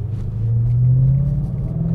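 A 2011–2014 Ford Mustang GT with a Borla exhaust, its V8 downshifting while climbing a hill: a deep, steady, loud exhaust rumble from inside the car, rising slightly in pitch.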